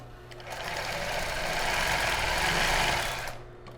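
A sewing machine sews a straight stitch at length 1.5 with several backstitches on a child's bra. It makes one continuous, close whirring run that rises and then falls away into quiet.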